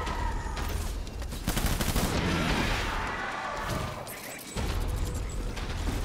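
Dense, sustained gunfire rattles through a firefight in Death Stranding, with rapid overlapping shots and bursts running almost continuously and loudly, broken only by a brief lull near the end.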